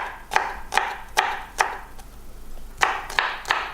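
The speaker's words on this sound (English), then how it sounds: "I'm going to cut the garlic into slices like this." A knife slices through garlic cloves on a cutting board in crisp, evenly spaced cuts, about seven or eight in all, with a short pause midway.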